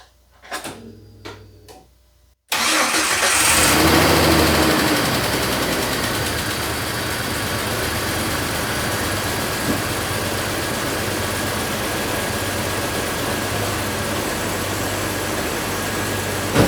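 A Jeep Wrangler TJ engine cranks and catches after a brief quiet stretch, then settles into a loud, steady idle that continues alone to the end.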